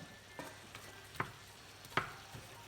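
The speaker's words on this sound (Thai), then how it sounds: "เดี๋ยวผัดให้สุกก่อนค่อยมาปรุงเครื่อง" Ingredients for a Thai glass noodle salad stirred in a pan, a few scattered scraping clinks and soft sizzling, close and fairly quiet, with no talking.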